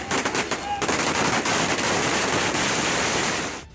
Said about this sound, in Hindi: सड़कों पर आतिशबाजी की